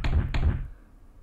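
Knocking on a door in the horror video game Ib: two heavy, resonant knocks in quick succession, loud and close, then fading into a low rumble with no voices.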